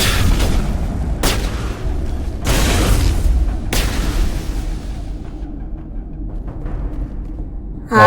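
Heavy gunfire on a shooting range in the sci-fi game Mass Effect: a few loud, booming shots with rumbling tails over a low continuous drone, fading toward the end.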